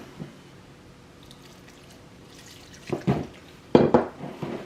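Cold water splashes and pours in short bursts near the end, after a quiet stretch with a faint drip early on, while cooking sweet and sour chicken.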